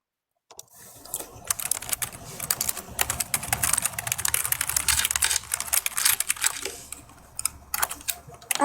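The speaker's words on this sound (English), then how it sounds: "And the keys on the keyboard." Rapid clattering keystrokes on a computer keyboard, fairly close and steady for several seconds, with uneven bursts of taps and brief pauses near the end.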